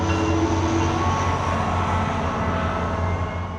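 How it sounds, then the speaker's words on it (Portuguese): A train rolls past with a steady, loud rumble and rattle that holds throughout the whole stretch, and no one speaks over it. "vamos pausar pro trem passar aqui"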